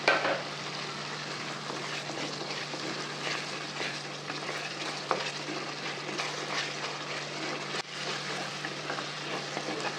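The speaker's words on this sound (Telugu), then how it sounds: "ఇప్పుడు కరివేపాకు పచ్చిమిర్చి వేసుకోండి." Curry leaves and green chilies hit hot oil and sizzle loudly and continuously, a dense close crackle that barely changes across the whole stretch.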